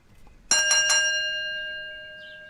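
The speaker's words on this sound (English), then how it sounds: "Let's ring the bell." A bell struck at the start of a Final Girl board game session, three quick bright metallic rings followed by a long, slowly fading shimmering tone, clear and close with no talk.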